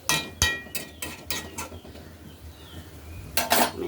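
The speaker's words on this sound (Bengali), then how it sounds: "এটা একটু ঢাকা দিয়ে দিই।" A metal lid goes onto a cooking pan while soybean, potato and chana dal cook, with a quick run of sharp clinks and taps, a quiet pause, then a final louder clatter.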